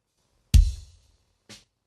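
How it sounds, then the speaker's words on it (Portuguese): Kick drum through an X32 mixer with no gate or compression, one punchy close thump with a ringing tail, followed a second later by a softer second hit. "Esse é o som do bumbo, sem gate nem compressão."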